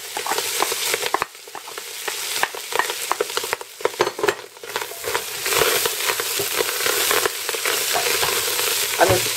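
Onion sizzles and crackles loudly in a hot pan with minced meat, with intermittent scraping and stirring sounds breaking through the steady frying hiss.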